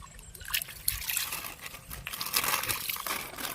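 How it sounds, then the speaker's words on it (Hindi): Water trickles and dribbles down along a riverbank at a fishing spot, a steady, fairly quiet babbling with small splashy bursts and no speech. "अरे नीचे चल जा रहा पानी"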